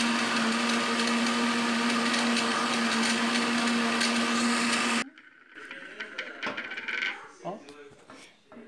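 A blender whirs loudly and steadily while mixing a lime mousse ice cream base of lime juice, milk and cream, then cuts off abruptly, followed by quieter clinks and handling noises.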